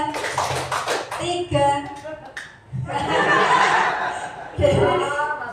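A group claps in quick bursts, mixed with laughter and chuckling voices nearby.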